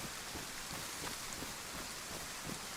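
Steady rainfall in DayZ, a soft continuous hiss of drops on surfaces with faint low rumbles, quiet and unbroken throughout.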